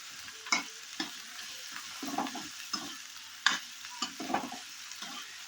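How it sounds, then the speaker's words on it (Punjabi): Tadka with ginger and onion for sarson ka saag sizzles in a pan, broken by a series of scraping stirs at irregular intervals, close and fairly soft. "ਤੜਕਾ ਤਿਆਰ ਹੋ ਰਿਹਾ ਹੈ"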